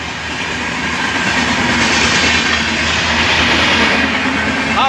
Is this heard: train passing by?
yes